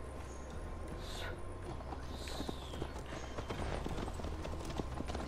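Horse hooves clip-clop steadily in Assassin's Creed Valhalla as riders set off together, a continuous rapid patter under dense game ambience and rumble.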